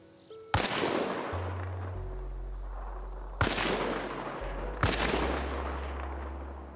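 Three sharp rifle shots in the Arma Reforger video game, spaced a few seconds apart. Each crack is loud and followed by a long, rumbling echo that fades out slowly.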